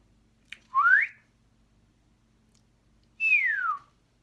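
A person whistles two separate clear tones, the first sliding upward and the second sliding down after a pause, both close and alone in a quiet room.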